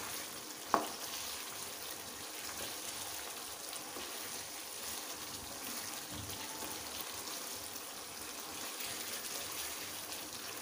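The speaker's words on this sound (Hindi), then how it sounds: "इसको हमने यहीं पर भूनना है सही अच्छी तरह से।" Chicken karahi masala being roasted in a pan, a steady, fairly faint sizzle and bubbling hiss that runs throughout, with one sharp clink near the start and no talking.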